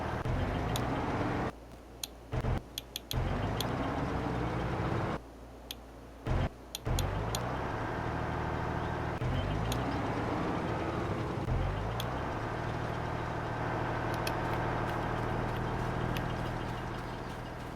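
A steady low vehicle engine hum idles throughout with a slight revving waver, interrupted by a few brief clicks and cutouts, in the video game Farming Simulator 22.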